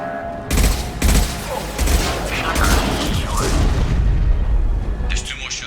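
Weapon fire from the video game Mass Effect 2 during a firefight, a dense barrage of loud booming shots and gunfire bursts that keeps going for several seconds, with voices heard underneath.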